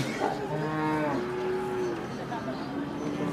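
A local cow at the Hazratpur cattle market lets out a long, low, drawn-out moo, then a second, softer one, heard over the steady murmur of the crowded market.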